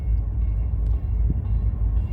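A CSX freight train rumbles along the tracks, a loud, steady low roar close by with no voices over it.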